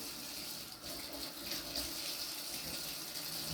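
Running tap water splashes over germination tray sponges in a sink, a continuous close hiss that holds level throughout with slight shifts as the sponges move under the stream, no talking.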